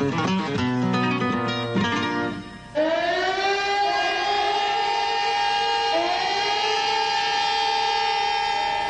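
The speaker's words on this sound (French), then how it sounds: "Lorsque les sirènes ont sonné" Sirens wail across Barcelona in July 1936, loud and sustained: layered rising tones hold steady, briefly dip and swell again, filling the whole stretch without voices.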